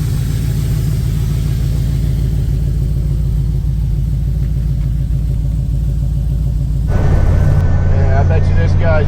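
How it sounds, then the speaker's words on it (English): A Chevrolet El Camino V8, running on all eight cylinders after a bad ground was fixed, rumbles steadily and loudly at close range, its lumpy pulsing idle shifting partway through as a voice comes in. "we fixed the ground, and now we're firing it on all 8 cylinders"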